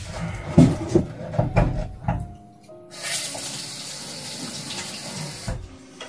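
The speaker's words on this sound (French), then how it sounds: "On va rincer les mains." Tap water running while hands are rinsed, starting with a few splashes and knocks, then becoming a steady close stream that cuts off at the end.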